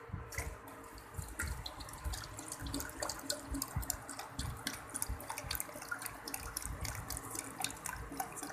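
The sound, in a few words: cold water being poured in for sharbat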